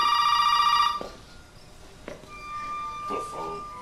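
An in-game telephone rings in Resident Evil 7, a loud steady electronic ring for the first second that then cuts off, followed by faint scattered sounds and a few soft clicks.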